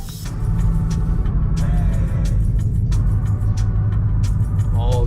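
Cars pass near a riverside crowd, their engines rumbling low and steady throughout with a hiss of road noise and occasional brief squeals, loud and close.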